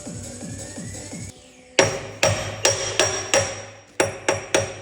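A brass bar hammers the steel boom pin of a JCB robot skid steer loader: about seven sharp, ringing metallic strikes in an uneven rhythm, close and loud, after a stretch of low mechanical noise.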